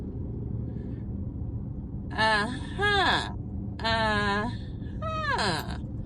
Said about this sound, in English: there's like traffic right here